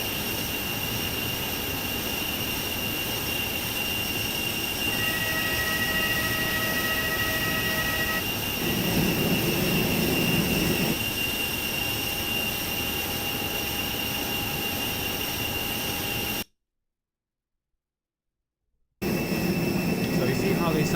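Air conditioning packs on an Airbus A321 run in a flight simulator sound pack with a steady, loud airy roar and a high whine. The pitch shifts partway through, a few soft tones sound, and the sound cuts out briefly.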